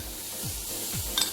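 Bacon sizzles in a hot pan, a brief steady hiss with two soft stirring scrapes and a light utensil clink near the end, close and alone.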